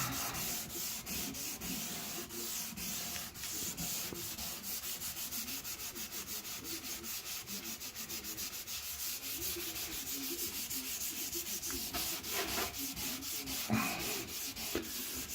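Continuous abrasive scrubbing on a bathroom surface during a refurbishment, a steady rasping rub in quick back-and-forth strokes, close and loud, with no talking.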